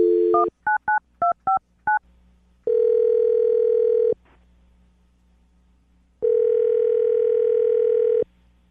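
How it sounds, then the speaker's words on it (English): A landline phone number is dialed with a quick run of six touch-tone beeps, followed by two long, loud, steady ringback tones separated by a pause. "I'm going to dial the phone number right now"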